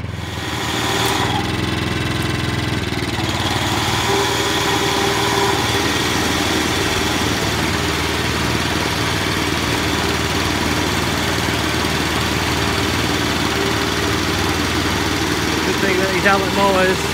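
A brand-new Allet lawn mower engine idles quietly and evenly throughout, a steady unbroken hum with no revving or breaks, heard close by.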